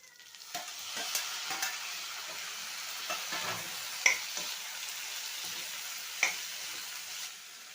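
Tomatoes, added after onions, fry in a pan for green chilli chutney. A soft, steady sizzle runs under intermittent scraping stirs and a few light clicks of the utensil against the pan, with no voices.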